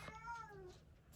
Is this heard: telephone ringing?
no